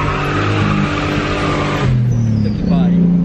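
A Chevrolet Omega six-cylinder turbo engine revs loudly and close, rising and falling in pitch through short bursts, with a roaring, continuous tone.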